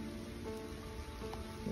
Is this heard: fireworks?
no